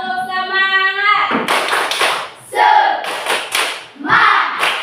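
A group claps out a rhythmic spirit cheer, sharp overlapping hand claps in quick bursts, with children's voices chanting between and over the beats in a lively room.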